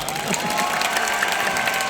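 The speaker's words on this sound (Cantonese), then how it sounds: "大家俾啲掌聲佢哋啦" A concert audience applauding at a 40th anniversary show, a dense, loud, continuous wash of clapping from a large crowd with faint cheers mixed in.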